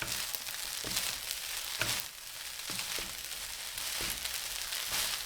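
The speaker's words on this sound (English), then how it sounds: "Add the crab meat. Stir for 2 minutes." Crab meat stir-frying in a pan for Thai crab fried rice, a soft continuous sizzle broken by several sharp scrapes and knocks of a utensil against the pan, close and moderately quiet.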